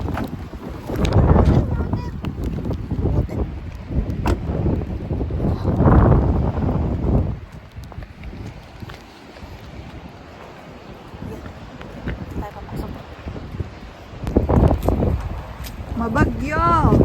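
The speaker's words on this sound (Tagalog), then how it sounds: "Bagyo. At saka medyo mahangin." Strong storm wind buffets the microphone outdoors in Canada, loud gusting rumble rising and falling, heaviest at the start and again near the end, with people talking over it.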